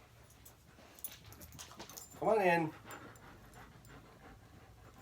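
Dogs indoors pant and let out a short whimpering whine in the middle, fairly close, over a steady room hum while a person speaks briefly.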